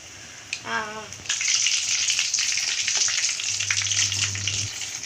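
Oil sizzles and crackles steadily in a pan as urad dal vada fry, a brief whistle-like squeak near the start and a low hum toward the end, no talking.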